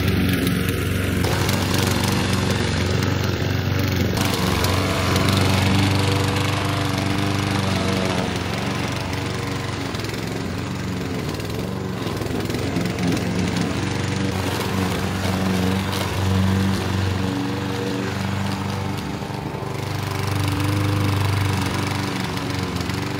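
A lawn mower drones steadily for the whole stretch in a German village garden, a continuous mid-distance engine hum with slight swells in level and no talk over it.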